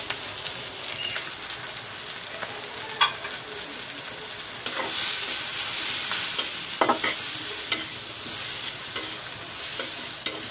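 Ground turmeric, dried chili, panch phoron, coriander powder and salt hitting hot mustard oil, a loud continuous sizzle with intermittent scrapes and clinks of stirring.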